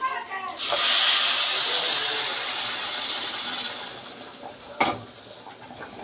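Water poured into rice frying in a pot for an Egyptian rice dish with vermicelli, bursting into a loud, steady hiss of sizzling steam that slowly fades, ending with a sharp knock of a pot or utensil.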